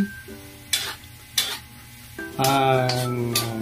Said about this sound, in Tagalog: Kumukulo ng mantika.